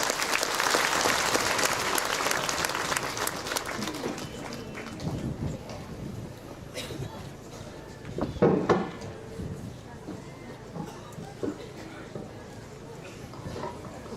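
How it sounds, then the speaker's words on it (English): Loud applause from a crowd fills the opening seconds, then fades into scattered claps and room noise with some distant voices. "can we just give them one more big round of applause"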